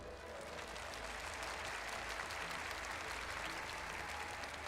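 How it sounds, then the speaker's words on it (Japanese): Audience applause at a fan festival gathering, a steady, dense wash of many hands clapping from a large crowd that holds evenly throughout, with no talk over it. "私が栄唱している間助けてくださる方、拍手お願いします。"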